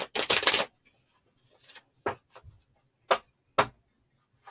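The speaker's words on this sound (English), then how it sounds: "And then I will be going and shuffling for Miss Carrie." Tarot cards shuffled close by: one long riffling burst at the start, then several short separate flicks and snaps spaced apart, with quiet gaps between them.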